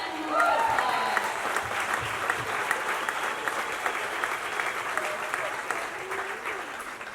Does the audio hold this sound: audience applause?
yes